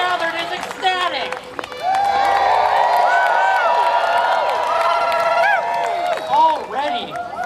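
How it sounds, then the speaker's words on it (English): Loud, dense crowd cheering and whooping at a live string and shadow puppet show at Sh'BANG 2024, sustained for several seconds with overlapping voices and shrieks, swelling after a brief dip. "The crowd gathered is ecstatic."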